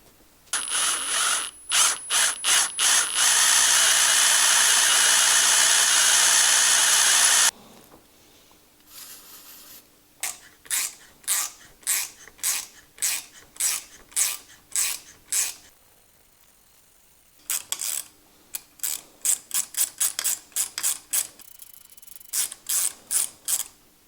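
A loud power drill whines steadily for several seconds while drilling a hole in metal, then runs in short repeated bursts with brief pauses between them.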